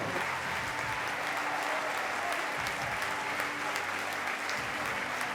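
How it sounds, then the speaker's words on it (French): Sustained applause from an audience at the end of a film screening, a steady dense wash of clapping lasting throughout without speech. "Longuement applaudis à l'issue de la projection"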